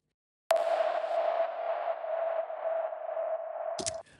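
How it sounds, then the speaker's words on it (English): A single percussion hit fed into Valhalla Supermassive on an 80s space reverb preset swells into a sustained, shimmering wash with a steady ringing tone, holding for over three seconds before a brief glitchy burst and abrupt cutoff. "Just fed a percussion sound into Valhalla Supermassive with that preset on there"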